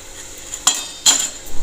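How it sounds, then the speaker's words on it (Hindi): Turmeric, coriander and red chilli powders roasting in oil in a pan for sarson ka saag, two sharp metallic clinks of a spoon against the pan over a faint background sizzle, close and without talk. "मसालों को भी अच्छे से भून लेते हैं।"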